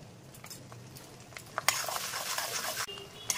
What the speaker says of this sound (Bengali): এই তেলের মধ্যেই আমি দিয়ে দেবো রসুন কুচি আর আদা কুচি